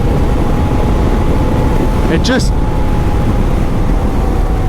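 A BMW R 12 G/S motorcycle being ridden on and off road, with a steady loud engine and wind roar throughout and a brief higher whine near the middle.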